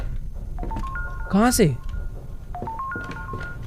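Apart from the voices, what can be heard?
telephone ringing in a horror video game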